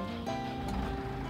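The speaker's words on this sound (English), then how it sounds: "Ooh, nice little engine sound right there." Engine of a modded vehicle in Farming Simulator 19 turning over and catching, a steady low rumble that holds at an even level for the whole brief moment.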